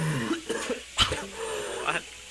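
A man coughs several times in short bursts, with a loud hacking cough near the middle and softer throat-clearing coughs around it, set off by laughter and heard close and alone.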